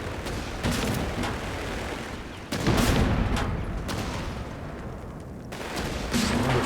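Infantry gunfire in the Company of Heroes 3 strategy game, Afrika Korps campaign: loud rattling volleys of rifle and machine-gun fire come in three sustained bursts with sharp onsets and brief gaps, with no talk.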